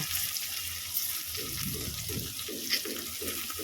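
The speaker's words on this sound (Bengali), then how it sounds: "দিয়ে দেবো কেটে রাখা পেঁয়াজগুলো পেঁয়াজটা নাড়াচাড়া করে একটুখানি ভেজে নেব" Chopped onions frying after crushed garlic in a pan, a steady hiss of sizzling oil with repeated scraping stir strokes in a regular rhythm, close and fairly quiet, with no talk.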